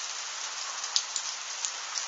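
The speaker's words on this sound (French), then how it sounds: "Bon bah on aura la grêle." Hailstones falling on a courtyard during an intense hailstorm in Tour-en-Sologne: a constant bright hiss of impacts with a few sharper pings standing out, moderately faint, with no voices.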